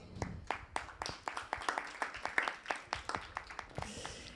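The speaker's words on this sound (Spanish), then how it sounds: "Un aplauso." Audience members at a political science orientation fair clap for a professor, a sparse, quiet patter of distinct individual claps in a loose rhythm, fading near the end.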